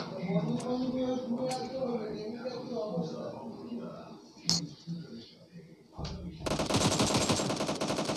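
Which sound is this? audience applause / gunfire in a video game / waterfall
gunfire in a video game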